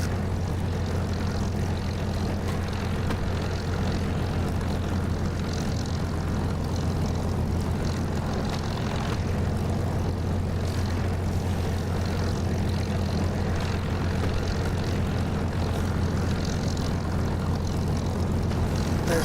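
Spitfire fighter's piston engine roars steadily in DCS, a constant loud propeller drone holding through the takeoff run with a deep low hum beneath it.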